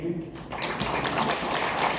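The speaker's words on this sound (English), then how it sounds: "Please give a big round of applause for Dr." Broadband audience applause for a lecturer at a university lecture hall introduction fills the clip steadily from start to end, with a brief spoken name heard over it.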